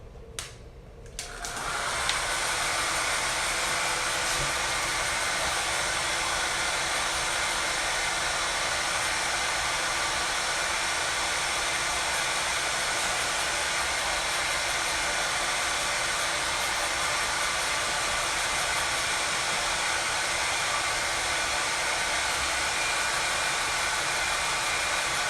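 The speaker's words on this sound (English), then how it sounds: "Let me take a little blow dryer to them." A handheld blow dryer switches on after a brief pause and roars steadily at close range, a loud unbroken whoosh drying freshly applied eye makeup, with no talking over it.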